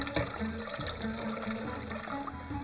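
Cold tap water runs steadily into a kitchen sink while cooking cauliflower with minced meat, a continuous close splashing flow with no talk over it.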